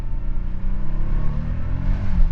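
A Nissan 300ZX Z32 Turbo engine accelerates in a steady, deep drone that swells slightly in pitch toward the end, heard alone with no talk.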